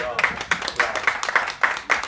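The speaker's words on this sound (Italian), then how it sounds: "Applauso." Audience at the presentation of the Konca Music Fest 2019 claps in quick rhythmic bursts, a few sharp, fairly close claps repeating steadily for about two seconds with no talk over them.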